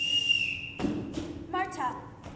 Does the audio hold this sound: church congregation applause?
no